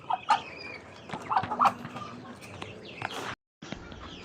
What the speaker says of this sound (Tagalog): Na yung mga pabo natin